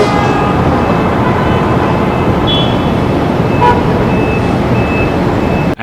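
Dense, loud Manhattan street traffic roar with a constant rumble, a sustained car horn toot and faint beeping mixed in, continuous throughout.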